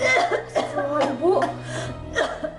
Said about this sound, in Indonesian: batuk ibu kok tambah parah sih, Bu?